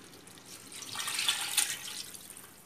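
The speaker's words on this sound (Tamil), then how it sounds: "நீங்கள் எவ்வளோ கப் அரிசி எடுக்கிறீங்களோ அதே கப் அளவுக்கு தண்ணி ஊற்றிக்கோங்க." Water poured into rice in a pot while cooking mutton biryani, a brief splashing gush that swells in the middle and tapers off, close and fairly soft with no talking.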